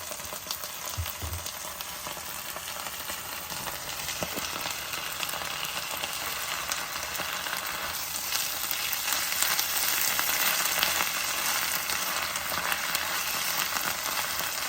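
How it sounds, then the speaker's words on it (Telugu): Ginger garlic paste frying with onions in a pan gives a steady, dense sizzle, close and even throughout, with a faint stir or two near the start. "సో ఇప్పుడు అల్లం వెల్లుల్లిపాయ పేస్ట్ కొంచెం వేసేద్దాం"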